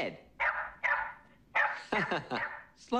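A dog on a film soundtrack gives a handful of sharp, close barks and yips in irregular bursts, with short pauses between them and a quick cluster near the end.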